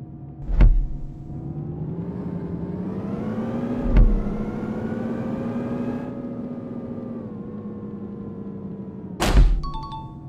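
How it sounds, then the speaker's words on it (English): Bus engine in an Indian bus simulator video game revving and accelerating in reverse, a loud steady mid-pitched drone with rising and falling pitch, punctuated by three short clunks, no talk. "Now change the gear to reverse and accelerate to move the vehicle in backwards"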